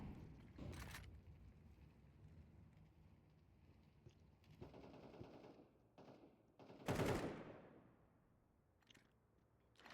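AK rifle fire in a Counter-Strike match: several short, sharp bursts of gunfire spaced apart, fairly faint against a quiet background.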